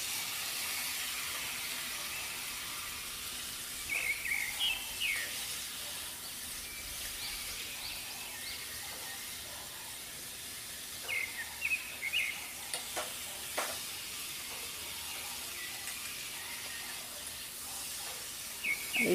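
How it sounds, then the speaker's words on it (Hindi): Chopped elephant foot yam fries in a pan, a continuous soft sizzle and hiss with occasional scraping stirs of a spoon against the pan. "अब कटा हुआ ओल डाल देंगे,"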